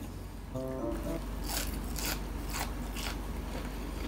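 Crispy fried calamari tentacle dipped in ketchup and bitten, giving a series of four or five sharp crunches in a slow rhythm, close and fairly loud over a low background hum.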